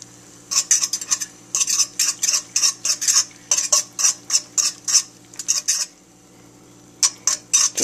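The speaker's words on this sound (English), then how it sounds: "Just going to finish scrambling these eggs." A fork beats eggs in a pan for fried rice, making quick rhythmic metallic clinks in steady bursts. They pause briefly near the end, then resume, close and fairly loud with no talk.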